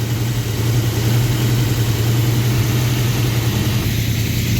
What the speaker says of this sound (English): it's idling at about 1200, and it's running good right there